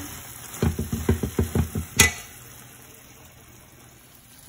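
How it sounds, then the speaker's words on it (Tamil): Coconut burfi mixture stirred in a pan, giving a run of about seven rhythmic scraping strokes close by, then one sharper clatter before the sound fades to quiet. "இப்படி கொஞ்ச நேரத்துக்கு ஒருக்கா இப்படி கலந்து விட்டுருங்க"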